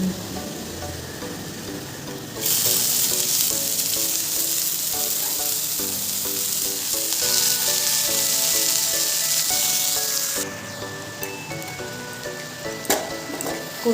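Leafy greens hitting hot oil with garlic and green chillies in a home Bengali kitchen, bursting into a loud, steady sizzle that runs for several seconds before settling into a softer crackle with occasional pops, with no talking.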